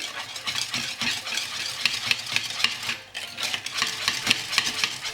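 Flour being whisked into chocolate fondant batter in a bowl, a soft rhythmic scraping and tapping that repeats steadily at a close, quiet level, with no talk.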